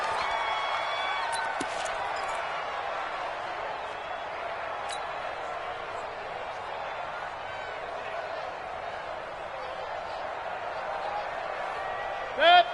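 Stadium crowd in a PS4 American football game, a steady broad murmur and roar filling the whole stretch at moderate loudness, with scattered cheers and claps and a brief louder swell at the end.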